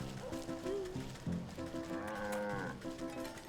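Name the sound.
cow mooing in the video game Wytchwood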